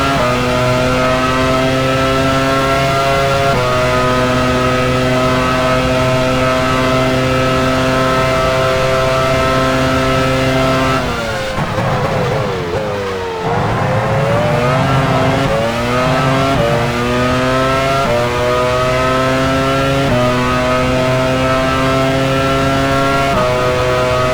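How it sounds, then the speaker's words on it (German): A Formula 1 car engine in the F1 Challenge 99-02 game at Hockenheim, driving into the pit lane: a loud, steady high-pitched whine that drops, sputters and dips as it slows, then climbs again through several gear-like steps. "Jos Verstappen fährt in die Boxengasse"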